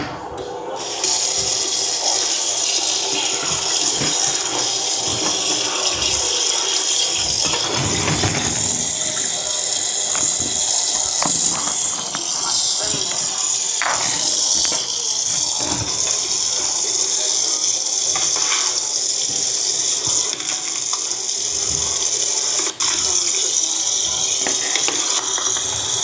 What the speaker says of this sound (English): bring this chicken over here to the sink and rinse it with some cold water